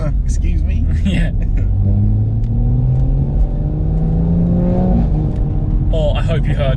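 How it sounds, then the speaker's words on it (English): BMW M140i engine revving from inside the car, a rising drone building steadily over several seconds and then dropping, with people talking over it. "I'll just build the revs up slowly."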